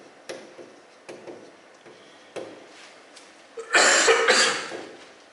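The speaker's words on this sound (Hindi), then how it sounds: "खांसते रहते हैं यार, क्या करेंगे?" A cough from someone with a cold: a few sharp, spaced coughs that build to a louder, harsher burst near the end, with no speech.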